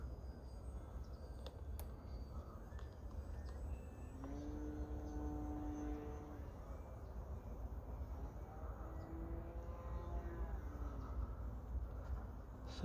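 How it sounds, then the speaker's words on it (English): A small radio-controlled T-28 model airplane's electric motor whines steadily at a distance, its pitch rising and falling as it passes overhead, with no talking. "Such a great flying plane."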